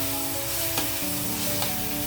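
Chicken sizzles in a pan with turmeric and salt, a steady close frying hiss with a couple of brief bursts where it is stirred, no voices.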